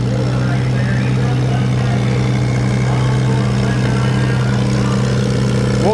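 Antique tractor engine at a county fair tractor pull, running as a steady loud low drone throughout, with crowd noise and talk underneath.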